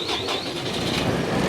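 A tractor's diesel engine turns over and catches, producing a continuous rough, throbbing rumble that is close and fairly loud with no talking.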